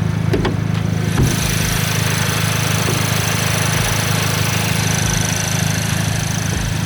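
Volkswagen MK7 GTI with a CTS Turbo cold air intake sits idling nearby, a steady, loud low rumble with a constant drone and a couple of faint blips, running alone without speech.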